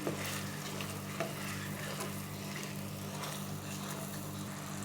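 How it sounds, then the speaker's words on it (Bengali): Sugar syrup with a little lemon juice gets stirred in a pan for motichoor laddu, a faint steady bubbling hiss with a few soft scrapes of the spoon, quiet and without speech. "আবার একটু নেড়ে দিচ্ছি"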